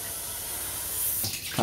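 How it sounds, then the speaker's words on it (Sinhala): Water runs steadily from a tap while filling a container, a brief close hissing stream. "වතුර ටිකක් පුරවලා එන්න වතුර පුරවන්නවා"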